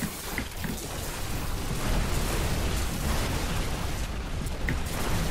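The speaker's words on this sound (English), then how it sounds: "Ooh, explosion." An explosion erupts in the video game Diablo 3 during a Necromancer endgame run, a dense, sustained rumbling burst of blasts and crackle filling several seconds without speech.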